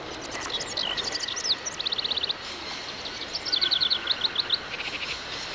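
Birds chirp in the video game Syberia, with rapid high trills and tweets in short bursts over a steady ambient hiss, fairly close and clear.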